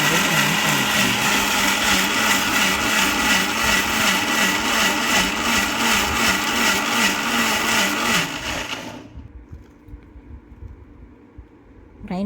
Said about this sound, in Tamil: எல்லாத்தையும் சாப் பண்ணி மிக்ஸி ஜாரில் ஆட் பண்ணிக்கோங்க. ஆட் பண்ணிவிட்டு அதை நல்லா பேஸ்ட் மாதிரி கிரைண்ட் பண்ணிக்கோங்க.